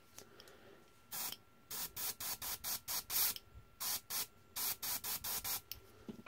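Repeated short bursts of airbrush spray applying paint over black primer on tabletop miniatures, each a hissing puff lasting a fraction of a second, in an irregular series with brief pauses between them.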